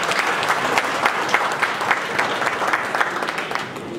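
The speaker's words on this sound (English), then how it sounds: "they deserve a hand of applause as well" Steady, dense applause from a crowd of guests at a 50th birthday celebration, continuous and fairly loud throughout with no talking over it.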